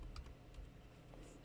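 Typing on a computer keyboard, a quick run of soft key clicks at close range over about a second and a half, faint and without any voice.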